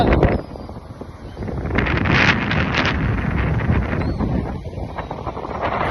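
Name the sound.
strong wind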